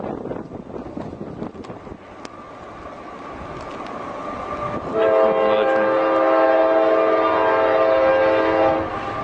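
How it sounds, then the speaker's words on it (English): A train passes close by near a busy train station, a loud steady rumble rising midway as a sustained multi-tone horn blares for several seconds over wind noise. "They have trains going by here 24/7"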